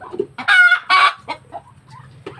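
Native chickens kept for slaughter cluck and squawk close by, a few loud harsh calls followed by softer clucks in a short burst, with no talk.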